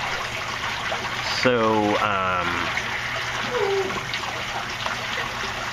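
Steady broadband water circulation in an aquaponics system holding roughly 350 to 400 gallons, driven by a pump moving 5 gallons a minute, with a continuous wash of flow under brief speech.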